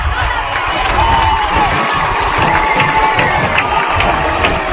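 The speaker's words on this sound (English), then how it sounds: "and they're getting a standing ovation." At a high school football game between Junction City and Washburn Rural, students and community members in the bleachers give the team a standing ovation, a loud, continuous roar of crowd cheering and clapping.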